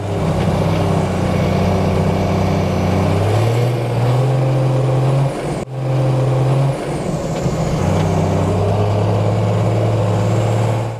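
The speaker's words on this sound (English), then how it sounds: "I figured I'd romp the throttle a little bit, get a little bit sideways" A Cummins-swapped truck on 37-inch tires rumbles loudly and steadily, its deep engine note rising and falling as the throttle is worked in slush, with a brief dip partway through.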